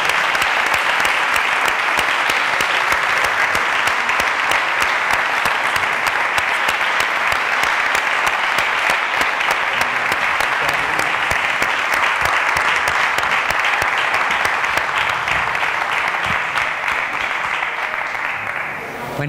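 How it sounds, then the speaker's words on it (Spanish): Strong, sustained applause from a large audience at the closing of a bullfighting conference, dense steady clapping lasting many seconds and fading slightly at the end. "yo os pediría un fuerte aplauso para José Manuel Laza por el cariño y el trabajo con el que ha organizado esta jornada."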